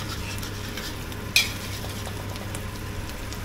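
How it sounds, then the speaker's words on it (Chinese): Eggs stir-fry in an iron wok on a gas stove, a continuous close sizzle with a sharp clink of the spatula against the pan partway through. "这个怎么炒都没问题，这个炒鸡蛋最简单了"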